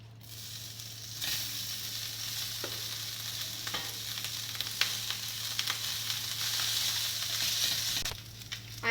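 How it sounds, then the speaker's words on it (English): Rice is added to a masala of fried cashews and raisins in a pan for a Hyderabadi-style vegetable biryani, with a steady sizzle of frying under scraping stirs and a low constant hum throughout. "Now in the same pan I am going to add half of this rice."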